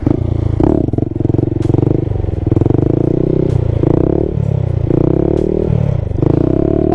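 A Honda Grom motorcycle engine holds a loud, close, buzzing drone during a wheelie on a wet surface. The pitch dips and rises repeatedly as the throttle is eased and opened.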